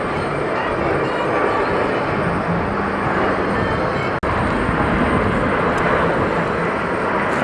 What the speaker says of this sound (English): It's a MAX 8 jet right there that we just saw.